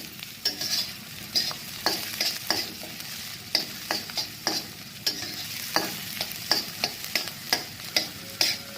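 Chopped vegetables frying with onion and garam masala in a pan, a continuous sizzle broken by regular scraping stirs of a spatula at a steady rhythm, close and clear with no talk.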